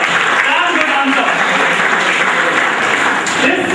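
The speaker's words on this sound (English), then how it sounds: "Give him a round of applause." A quiz-show audience at the General B.C. Joshi Memorial Quiz gives a loud, dense round of applause that stays constant throughout, with voices mixed in underneath.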